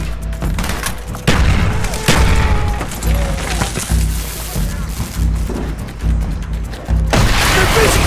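Grenade explosions in Call of Duty Black Ops, on the Numbers mission: heavy, loud booms amid gunfire and battle noise, with voices around them.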